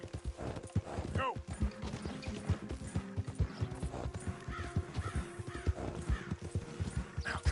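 In Red Dead Redemption 2, a horse's hooves clip-clop in a steady, close rhythm throughout, with crows cawing now and then and game characters talking over the hoofbeats.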